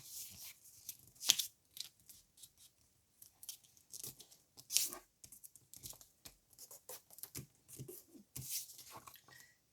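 Paper being folded by hand, with crisp crackling and creasing rustles in scattered bursts, a few sharper crinkles standing out, close and fairly quiet with no talking.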